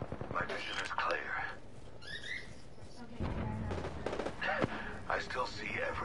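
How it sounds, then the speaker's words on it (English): Rapid bursts of video-game gunfire crack around a player under attack in a PS4 shooter, several quick volleys separated by gaps, mixed with game announcer voices and talk. "Getting shot at."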